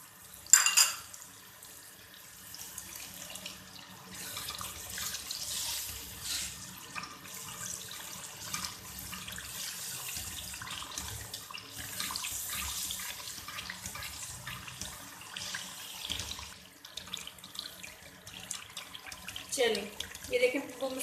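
Dal water mixed with a chicken stock cube is poured bit by bit into masala frying in a pan. Faint splashing and sizzling come in short bursts, with light clatter from the pot and a quiet voice talking at times.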